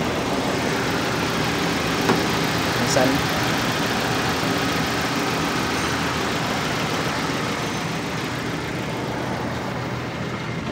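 A car with a previously overheated engine runs steadily after starting, a loud, constant idling rumble with broad noise, and a brief word spoken over it.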